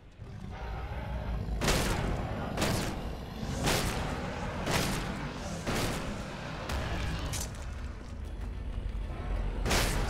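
A damaged Lead Spreader shotgun fired repeatedly in Elex 2, a series of booming blasts spaced about a second apart with whooshing tails, sounding over a low background rumble.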